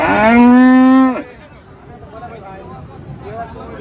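A Friesian dairy cow at a busy cattle market lets out one loud, long, close moo lasting about a second, then the lowing stops and quieter crowd chatter and babble carry on.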